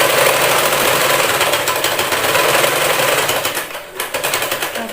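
Sewing machine stitching fabric during a beginner stitching lesson, running in a loud continuous rapid mechanical whir with steady needle chatter, easing slightly toward the end, no talk.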